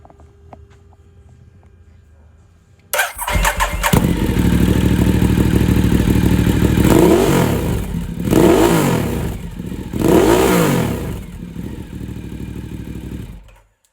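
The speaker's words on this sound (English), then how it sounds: "I'll just start it up because it does sound a monster with that pipe on." A 2016 Ducati Diavel fitted with an aftermarket exhaust pipe fires up abruptly, then idles loudly and is revved in three sharp rising blips before settling back to a rumbling idle.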